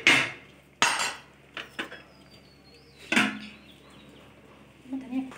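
Dal gosht in a cooking pot being stirred with a spoon, giving several sharp metallic scrapes and clinks spaced irregularly, close and moderately loud, with faint soft movement sounds between strikes.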